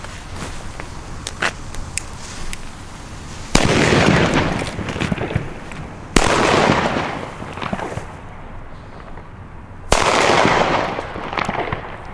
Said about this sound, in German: Jetzt geht's weiter mit den B-Böllern von Funke.